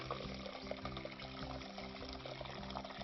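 Water poured into a pot over corned beef and brown sugar, a steady continuous splashing flow heard close and fairly quiet, with a low humming drone underneath.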